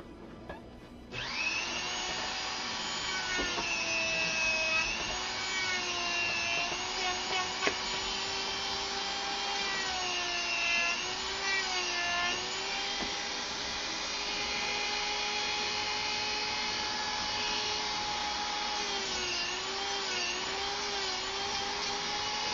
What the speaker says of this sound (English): I need to sand down both the edges.